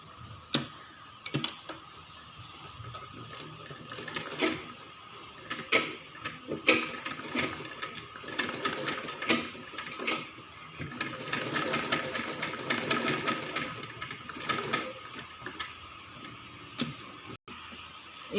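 A sewing machine stitches fabric for a baby's umbrella frock in short and long bursts of rapid mechanical clatter, separated by brief pauses, close and clear.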